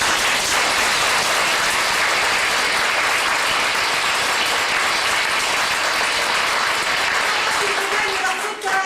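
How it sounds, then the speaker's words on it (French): Theatre audience at an amateur comedy show applauding loudly and steadily, a dense sustained wash of clapping that fills the room and fades slightly at the end. "On les applaudit bien fort!"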